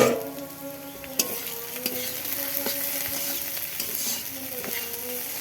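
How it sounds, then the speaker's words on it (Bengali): Bitter gourd and potato fry in a slightly scorched wok with a steady, close sizzle, punctuated by sharp spatula scrapes and stirring clinks, with no voices. "উচ্ছে আলু ভাজা করছিলাম"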